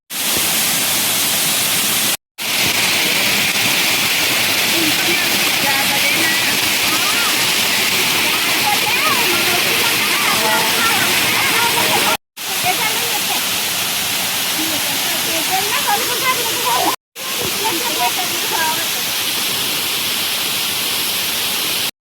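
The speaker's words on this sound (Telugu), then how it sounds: "ఇది ఒక బుల్లి వాటర్ ఫాల్స్ అన్నమాట." A small waterfall at Dharapalli rushes with a continuous close, dense hiss of falling water, broken only by a few abrupt cuts, while soft voices sit beneath the roar.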